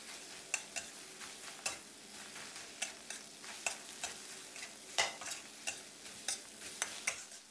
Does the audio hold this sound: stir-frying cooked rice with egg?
yes